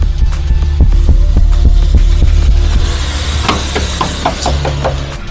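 A hollow metal floor panel around the spare-tyre well of a Toyota Yaris is pressed by foot, giving loud, close, booming thumps in a steady rhythm, then lighter knocks and rattles toward the end. No one speaks.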